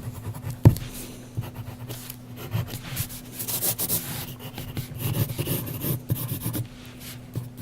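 A graphite pencil sketches on paper in rough, spontaneous strokes: soft scratchy rubbing that comes in uneven bursts, close and quiet, with brief pauses between strokes and no talking.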